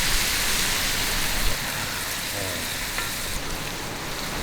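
Onions sear in a cast iron pan over a camp fire, giving a loud, steady broadband sizzle and crackle throughout with small pops, close and continuous, no talking.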